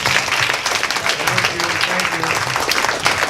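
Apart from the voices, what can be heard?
audience applause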